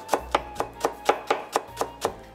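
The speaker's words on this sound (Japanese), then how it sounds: "さあ、これからまたこれをみじん切りです。" A knife finely mincing green onion on a cutting board, about ten crisp, evenly spaced chops close up, steady and rhythmic with no talking.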